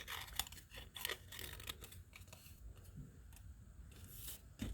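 Scissors cut an image out of paper for a collage, a faint run of small snips and paper rustles heard close up.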